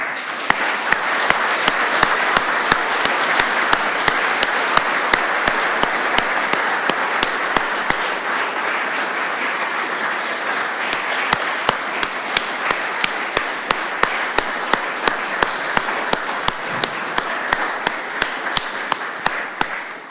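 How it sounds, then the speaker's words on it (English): A large audience at a university donor gift ceremony gives a long, sustained round of applause, dense and steady for about twenty seconds with occasional sharper individual claps standing out, no speech over it. "I would like to ask that we all join in another round of applause."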